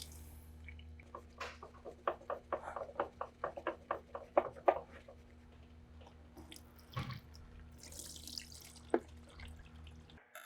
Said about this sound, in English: You can unscrew the canister. If needed, you can use a filter wrench to unscrew the canister. Catch the fuel in a catch pan.